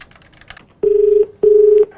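Telephone number being dialed for a prank call: two long, steady, loud tones, each about half a second, separated by a short gap, after faint background clicks.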